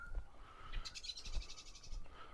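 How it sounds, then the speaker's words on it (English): Birdsong along a shaded walking path in the Tasmanian Midlands near Ross, several chirping calls at moderate distance, with a steady higher call running underneath and soft footsteps or wind. "Hope we're picking up the birds."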